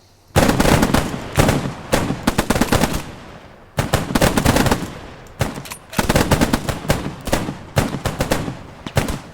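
Repeated rifle volleys from a platoon of infantry in the WWII shooter Squad 44, loud bursts of overlapping gunfire in three rapid clusters with brief pauses between.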